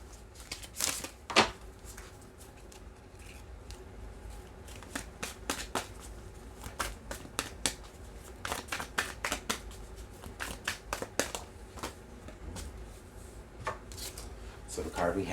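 Oracle cards being shuffled in a quick series of crisp riffles and slaps, with bursts spread through the clip at close range. Soft talk sits under them at times.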